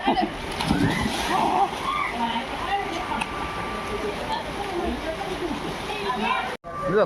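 A person splashes into deep water, and the splash and sloshing are loud and close at the start. Voices talk and call over the churning water throughout.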